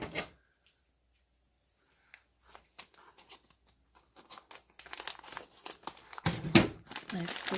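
Crinkling small plastic toy bag being handled and opened, rustling bursts that grow louder and busier toward the end, close to the microphone.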